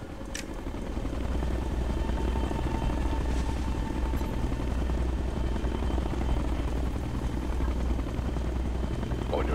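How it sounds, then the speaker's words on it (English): A helicopter in the video game Ghost Recon Future Soldier gives off a loud, continuous rotor thrum and engine roar that holds steady throughout, with a faint high chirp near the start. "If that chopper spots us, it'll get messy real fast."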